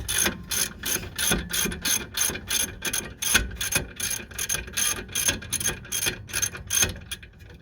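A hand ratchet loosens the lower rear brake caliper bolt on a 2004 Jeep Grand Cherokee, clicking in quick, even bursts of close, crisp pawl ticks over several seconds.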